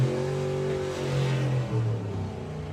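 A drag racing car at Santa Pod Raceway holds its engine against a throttle stop, a loud, close, sustained rough drone that dips and wavers in pitch before steadying.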